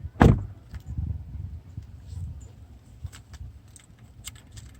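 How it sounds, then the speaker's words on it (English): A Volvo S60 car door shuts with a single sharp, close thud, followed by faint interior clicks and rustling. "Let's close the door right quick."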